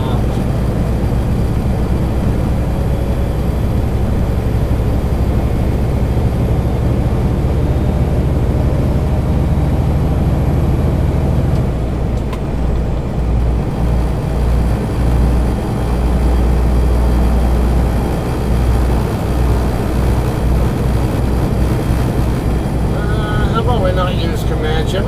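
A heavily loaded semi truck accelerates near Tehachapi, California, producing a continuous loud, low, heavy engine drone that holds steady for the whole stretch with only slight shifts in tone.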